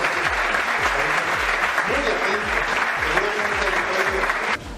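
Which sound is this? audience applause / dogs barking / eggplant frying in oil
audience applause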